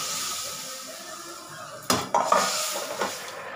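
Fish curry with ginger, salt, turmeric and spices being stirred in a metal pot after water is added, a soft background simmer followed by a few sharp clanks and scrapes of a spoon against the pot.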